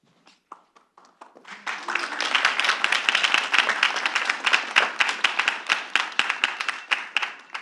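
Keynote audience applause rising after a few scattered claps into a dense, sustained burst of many hands, then thinning into individual claps toward the end.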